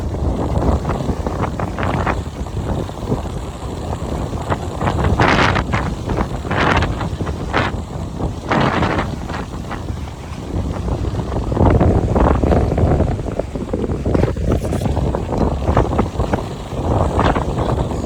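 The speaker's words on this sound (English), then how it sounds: "Some of these waves are getting pretty intense for a while." Strong wind buffets the microphone on a lake while kayaking, with choppy waves slapping and splashing against the boat in irregular bursts, loud and close throughout.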